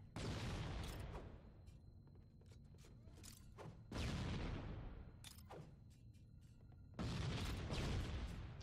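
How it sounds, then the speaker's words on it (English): Grenade explosions in Halo MCC, three heavy booms spaced a few seconds apart, each followed by a decaying rumble and scattered crackles. "Wow, that was a good grenade throw I did there."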